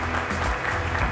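Audience applause welcoming Georges Arthur Forrest, president of the Forrest International group, onto the stage at an award ceremony: a dense, steady wash of clapping across the whole moment, moderately loud with no talk over it.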